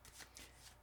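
Soft riffling of tarot cards being shuffled, a few quick papery bursts in a quiet room, close but faint, with no speech.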